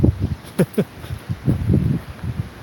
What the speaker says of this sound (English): So to be able to hear good and not just have wind noise the whole time, like right there, right now